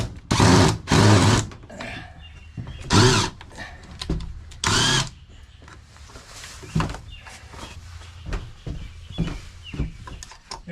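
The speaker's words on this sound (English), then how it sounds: "The drill bit on this is not the best in the world." A power drill with a poor-quality drill bit whirs in several short, loud bursts, separated by pauses with quieter handling and rattling noises between them.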